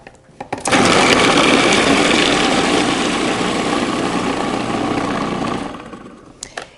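A food processor blending garlic and ginger with a little oil: after a click it whirs loudly and steadily for about five seconds, then spins down and stops.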